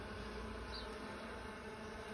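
A quiet, steady hum of honey bees buzzing around hive frames during a honey harvest, continuous and faint with no talking.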